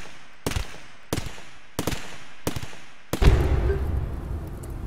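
Five sharp gunshots fired at boom rats in the colony game Rimworld, evenly spaced about two-thirds of a second apart, the last followed by a louder low burst.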